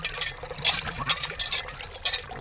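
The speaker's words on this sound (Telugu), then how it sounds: "బాగా రుద్దుకొని కడుక్కొని ఆ నీళ్ళు కడబోసేసి నీట్గా కడిగి" Water splashes and pours in short bursts as something is scrubbed and rinsed by hand in a kitchen, with irregular sloshing and dribbling close by and no talk.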